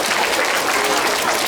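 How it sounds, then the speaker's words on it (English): Applause from a class of children and adults at a school reading challenge kickoff fills the room, a dense, steady burst of clapping throughout the short moment. "Give a round of applause."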